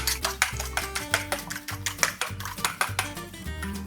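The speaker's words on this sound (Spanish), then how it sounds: "vamos a alistar 2 huevitos y los vamos a batir." Two eggs whisked briskly in a bowl with a utensil, rapid rhythmic clinking and tapping against the dish, close and steady with no talking, while preparing homemade puff pastry for Pastel Gloria.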